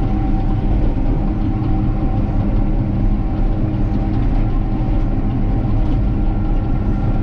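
A Caterpillar D6K crawler tractor levels fill ground in a low-lying area, its diesel engine giving a steady, loud, close rumble with continuous low-end churn and no breaks for the whole stretch.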